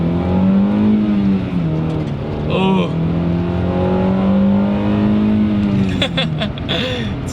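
A project car's engine revs through a steady, loud drone with rising and falling pitch as the driver rev-matches through gear changes, and a brief voice exclaims near the end.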